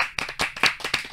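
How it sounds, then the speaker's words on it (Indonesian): A small studio audience at an Indonesian talk show claps for actors, a short, close run of a few sharp, uneven handclaps lasting about a second. "Ada tahu, tepuk tangan lu dong."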